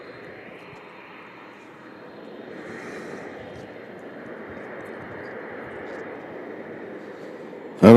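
An Atlas Air cargo airplane taxiing out at Louisville airport, its engines a steady, distant low roar that swells slightly over time before a sudden loud knock at the very end.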